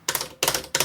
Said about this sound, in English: just so you can hear the difference between the buttons, it sounds a bit like this